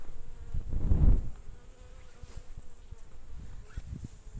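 Honey bees buzz at an open hive during brood frame work, a dense insect hum swelling loudly near the start and then settling into a steady, softer drone with scattered light knocks.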